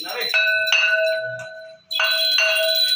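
A hand bell rings in two bright bursts of clear, sustained metallic tones with a short pause between, close and loud, during a Hindu Satyanarayan puja.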